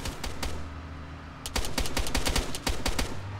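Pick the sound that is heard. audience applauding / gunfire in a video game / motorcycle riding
gunfire in a video game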